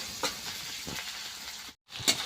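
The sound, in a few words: onion frying with five-spice in a pan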